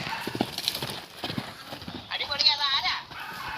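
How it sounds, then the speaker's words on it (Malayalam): Hooves of a ridden horse clip-clop in a quick, uneven rhythm close by, followed by the horse's shrill whinny. "കുതിര ഓടിക്കുന്നത് നിങ്ങൾ കണ്ടിട്ട് പോവാ"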